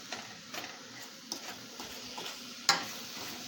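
An onion on a fork brushes across caramel in a pan, making soft, faint scraping strokes and gentle sizzle with a few sharp ticks and one louder clack near the end, heard close and without speech.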